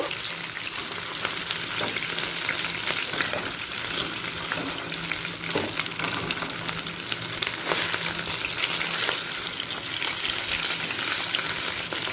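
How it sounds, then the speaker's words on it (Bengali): Pieces of bhetki fish fry crisp in hot oil, a dense, continuous sizzle and crackle that stays loud and even throughout with occasional stirring, no voices over it. "তাই একটু কড়া করে ভেজে নিতে হবে সেকেন্ড ব্যাচের"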